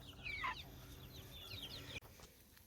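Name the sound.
chickens clucking around bunnies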